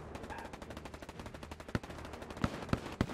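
Rapid gunfire in a hardcore first-person shooter game, a fast rattle of shots with several louder, sharper reports standing out near the end, heard at moderate distance.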